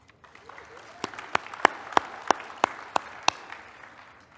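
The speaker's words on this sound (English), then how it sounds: "you give yourselves a round of applause" An audience at a vocational education conference claps for itself, a sparse run of about ten distinct, evenly spaced hand claps rising and then fading, quiet and fairly close.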